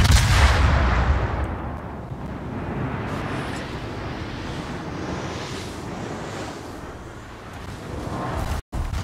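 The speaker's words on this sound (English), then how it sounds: "Now I just have to fire on Richelieu using HE salvo." A Nottingham warship in World of Warships fires a high-explosive salvo. A heavy boom opens, then rumbles into a long wash of sea and wind noise that fades slowly, ending in a brief dropout.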